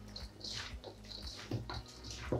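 Sweet potatoes and jalapenos being stirred in fermenting brine, a soft series of wet squelches and sloshes, close and quiet, with no talking.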